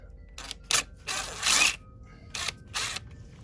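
A hand ratchet loosens the old bolt on the kickstand of a KTM 250 EXC-F dirt bike, heard as several short bursts of clicking at close range separated by brief quiet pauses.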